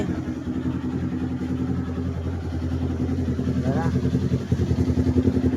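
A Kawasaki Ninja 400 sport bike comes back to life in a repair shop after its wiring harness has been fixed. The engine runs on in a steady, throbbing idle with a faint revving blip, while people talk over it.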